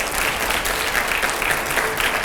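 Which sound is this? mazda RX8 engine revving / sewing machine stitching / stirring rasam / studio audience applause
studio audience applause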